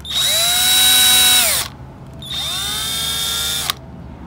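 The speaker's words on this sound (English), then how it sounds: "I got a drill and pretty much just drilled it inside" An electric drill whirs loudly in two bursts while installing a bumper kit on a Honda Civic, each winding up to a steady high-pitched spin and then slowing down, with a short pause between them.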